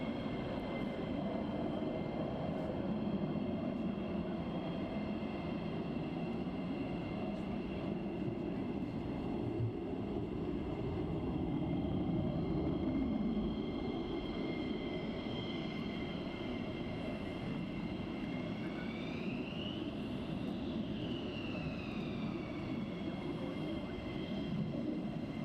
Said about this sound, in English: already we've got some more taxiing over here.